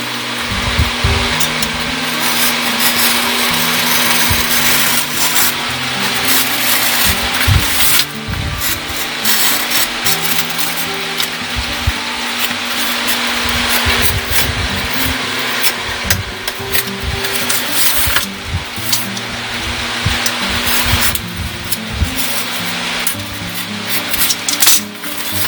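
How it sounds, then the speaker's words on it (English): A hobby knife scrapes and cuts along the edge of a decal on an instruction plate, producing steady close rasping and rubbing strokes throughout with occasional sharper ticks and taps. "it's easier to spin the instruction plate than to drag the knife along."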